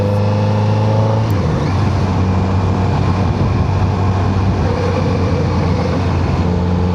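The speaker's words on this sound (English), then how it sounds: "I could play tunes on this exhaust all day. It just kind of makes you want to rev it." A 2026 Kawasaki Z900RS motorcycle exhaust, loud and close, holding a deep, steady engine drone and shifting in pitch as the throttle rises and falls, with a dense rumble throughout.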